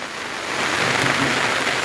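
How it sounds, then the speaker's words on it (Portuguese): Steady rain pours down on an outdoor film set, a dense, even hiss that swells slightly louder after the first half second and continues without pause; no voices. "nós estamos aqui esperando a chuva passar"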